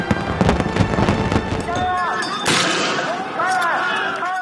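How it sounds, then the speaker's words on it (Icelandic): Fireworks close out a Chinese celebration, a dense run of crackling bursts and sharp bangs with rising whistles near the end, loud and continuous, with some background voices. "Og eins og öðrum alvöru hátíðum var endað með flugeldasýningu."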